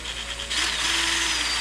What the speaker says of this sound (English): drill a bunch of holes and put zip ties on it